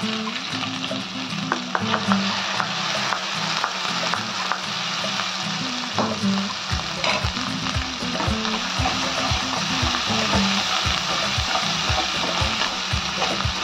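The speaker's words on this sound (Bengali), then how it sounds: "একটু এর মধ্যে ভেজে নেবো ভালো করে" Onion and cashew paste frying in oil over medium-low heat for chicken changezi, a loud sustained sizzle with a rapid, regular scraping of a spatula stirring through the pan.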